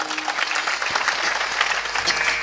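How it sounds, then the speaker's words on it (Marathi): An audience at a Marathi kirtan breaks into sustained clapping, a busy mix of near and farther hands with a few sharper individual claps standing out and faint voices under it. "एकदा जोरात टाळी वाजवा सगळ्यांसाठी."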